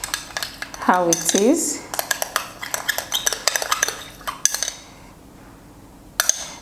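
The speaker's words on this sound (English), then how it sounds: "I'm going to add coffee to that, and then I will stir it properly." Spoon stirring coffee into aloe vera gel in a bowl, with quick clinking scrapes against the bowl for several seconds before fading to quiet and one last clink; close, with a brief voice near the start.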